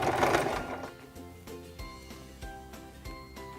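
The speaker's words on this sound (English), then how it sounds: "then we'll sew 6 to 8 stitches again." A sewing machine stitches a buttonhole, a fast rhythmic mechanical chatter near and loud, starting dense then settling into evenly spaced thumping stitches.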